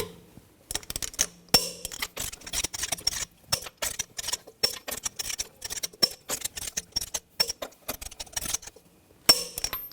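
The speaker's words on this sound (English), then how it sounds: "we're going to torque the lug nuts to 140 foot-pounds in a cross pattern to tighten the wheel down" Torque wrench tightening lug nuts on a 2015-2020 Cadillac Escalade rear wheel, with rapid metallic ratcheting clicks in uneven bursts, close and fairly loud, pausing briefly between nuts.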